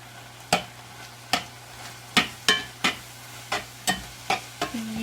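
A utensil scrapes and knocks through seasoned ground beef in a skillet in about ten sharp, spaced strokes. A low hum and faint sizzle run beneath the strokes.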